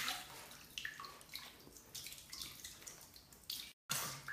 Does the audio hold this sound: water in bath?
yes